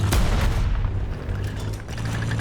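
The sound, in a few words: enemy tank gunfire in video game War Thunder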